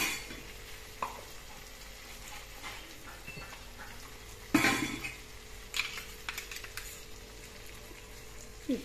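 A spoon stirs white mustard paste with okra and potato in a pan, with soft scraping and occasional clinks against the metal. A sharper knock comes midway, under faint background noise.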